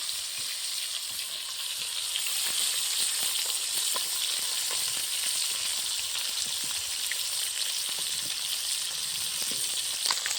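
Fish pieces fry in oil in a pan, making a dense, continuous sizzle with constant fine crackles and pops that stay loud and even throughout, with no voices over them.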